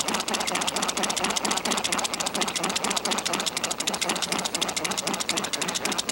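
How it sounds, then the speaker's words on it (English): A hand mechanical spatula mixes dental investment in a bowl, a fast, even rattling whir of rapid repeated strokes, steady and close throughout. "Then you would use hand mechanical spatula and really mix this one about 60 to 70 times."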